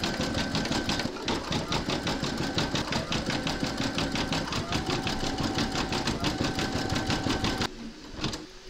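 An embroidery machine sews red metallic thread in a dense, steady rapid clatter close by for over seven seconds, then drops to a quieter hum near the end.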